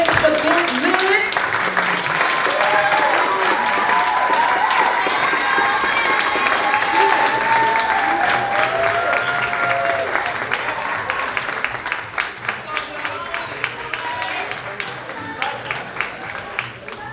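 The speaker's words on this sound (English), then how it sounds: "A whole lot of clapping all the way up to the stage for good men" Sustained audience applause at a live youth poetry slam showcase, loud and dense with scattered cheers and voices, gradually thinning and becoming more spread out toward the end.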